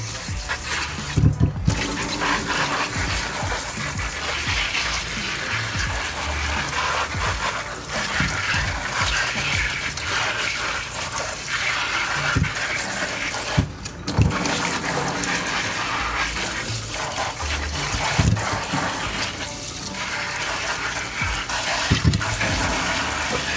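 Tap water gushes continuously into a kitchen sink while bok choy is rinsed and handled, with intermittent splashes, clunks and rubbing sounds and no talking.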